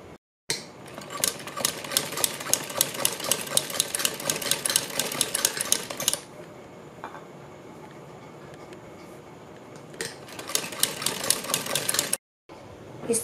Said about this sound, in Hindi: पलट कर प्रेस करने के बाद हम इसके ऊपर बड़ी करके चारों तरफ एक सिलाई लगाएंगे।